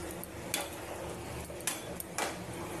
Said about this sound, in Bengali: এবার আমি একটু জল দেবো, দিয়ে ভালো করে আমি নেড়ে চেড়ে নেবো।